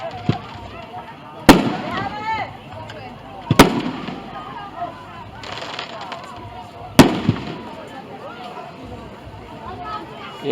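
Fireworks burst at a jubilee show, three sharp loud booms with crackle and whistling trails between them, heard a little distant under a steady crowd babble and people talking nearby.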